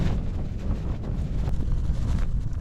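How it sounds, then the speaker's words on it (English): Strong wind gusts buffet a lightweight bivvy tent during a night of survival, one corner flapping; a steady, close, roaring rush of wind continues throughout with no talking. "Some pretty big gusts coming. This corner's flapping like hell."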